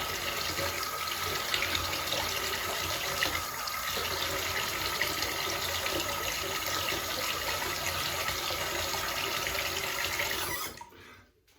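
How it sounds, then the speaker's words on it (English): Tap water runs steadily into a bathroom sink basin, refilling it for straight razor shaving, a continuous close splashing rush that carries on for about ten seconds before stopping abruptly. "Fill the basin back up with water"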